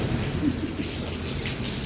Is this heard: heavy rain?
yes